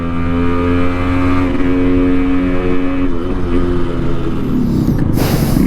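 A Yamaha RX 100 motorcycle's engine drones steadily while riding, with a loud, continuous two-stroke buzz. Near the end a gust of wind or passing noise washes over it.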